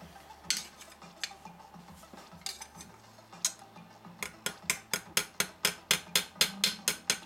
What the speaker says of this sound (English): Hammer these a bit more on the stake head with a little planishing hammer